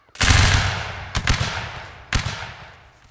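Musket line volleys in the Napoleonic Wars video game line battle: one large loud crashing volley followed by two smaller ragged volleys about a second apart, each a cluster of near-simultaneous shots decaying into echo.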